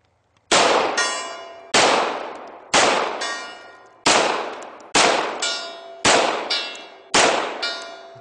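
Seven sharp metallic clangs, evenly spaced, as pistol rounds from a Beretta 92FS strike a distant steel gong target at long range, each ring fading quickly.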